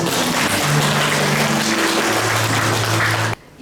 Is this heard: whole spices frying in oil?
no